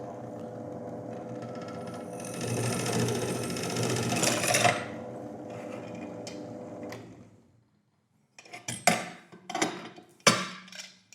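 A PTBM 400 D1 bench drill press spins up and bores a 5 mm hole, a fairly quiet whirring hum that swells while cutting, then stops, followed by several sharp clicks and knocks.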